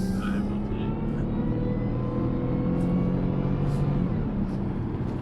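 Supercharged V8 whine from a Jaguar XJR sedan under way on the road, a steady tonal drone layered over low engine and road noise, with people talking in the cabin.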